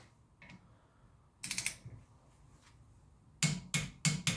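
Ratchet snugging a bolt to 9 foot-pounds on the rear brake of a BMW F30, heard as a few short bursts of dry clicking, one burst early and a cluster of three quick bursts near the end, with quiet gaps between.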